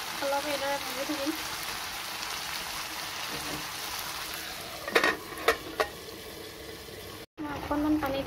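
Pork fries in a pan with a steady, hissing sizzle, broken midway by a few sharp clatters of stirring, while a voice talks briefly at the start and end.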